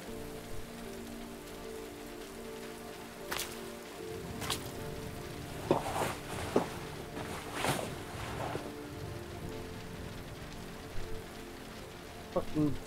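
Steady rain patters on a surface, with occasional louder drips and knocks standing out against the constant wash.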